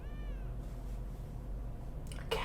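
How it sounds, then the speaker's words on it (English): A cat meows once in a drawn-out, wavering cry at the start, close and clear. The rest is quiet room tone, with a brief rustle near the end. "Cat."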